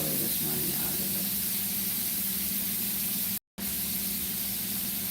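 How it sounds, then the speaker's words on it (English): Food sauteing in a pan, with salt just added, gives a steady, loud hiss of sizzling that runs without a break apart from one brief dropout. No one talks. "Now we are sauteing it"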